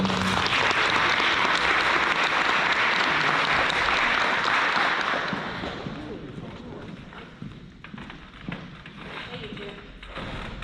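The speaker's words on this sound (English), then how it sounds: "Let's give him one more round of applause." A crowd at a senior awards night applauds loudly for about five seconds, then the clapping thins into scattered claps and a quieter room with some talk.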